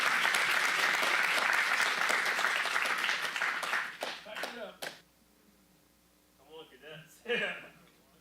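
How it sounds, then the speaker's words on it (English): An audience at a county supervisors meeting applauds detectives with dense, sustained clapping that thins out and stops after about four seconds, followed by scattered claps and nearby voices. "Let's give them a huge round of applause."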